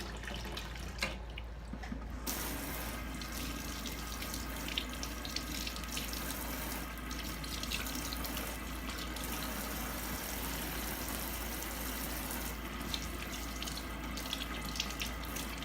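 A kitchen tap runs steadily as produce is rinsed under it, a continuous close splashing wash of water that holds for the whole stretch with no talking.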